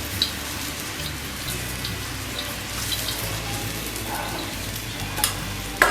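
A gobhi paratha cooks on a tawa with oil, giving a steady, crackling sizzle like light rain, with a couple of faint clicks and a louder knock at the end.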